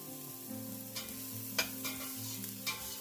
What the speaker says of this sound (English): Let this saute a bit.